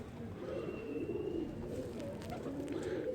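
A lightweight, fine-boned Qasori pigeon kept by a fancier coos softly in a low, rolling murmur, close and fairly quiet, with a faint high chirp in the background and no talking.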